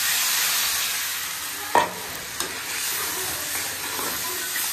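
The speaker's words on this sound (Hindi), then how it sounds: "तो यहाँ पे अभी फोरन बन गया और इसको हम इसमें डाल देंगे।" Hot tempering is poured into a pakora curry, giving a sudden loud splash of sizzling followed by a steady, close frying hiss with a couple of faint stirring clinks, and no voices.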